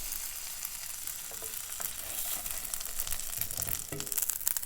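A banana walnut pancake fries in melted butter in a pan, making a continuous close sizzle that gently grows toward the end.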